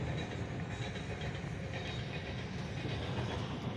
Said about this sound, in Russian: Вагоны идут полные угля.